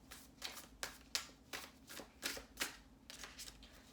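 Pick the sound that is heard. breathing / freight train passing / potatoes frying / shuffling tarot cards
shuffling tarot cards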